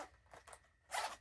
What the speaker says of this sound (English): Little zipper.